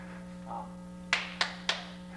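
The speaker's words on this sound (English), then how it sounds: "You clap three times." Three sharp hand claps in even succession, moderately close, commanding a mobile robot, over a steady low electrical hum in a quiet room.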